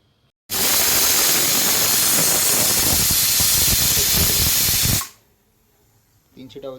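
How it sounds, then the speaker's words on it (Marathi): A pressure cooker releases steam in a loud, sustained hissing whistle lasting about four and a half seconds, then cuts off abruptly, leaving a quiet room with faint voices. "तीन शिट्ट्या होतील पटापट"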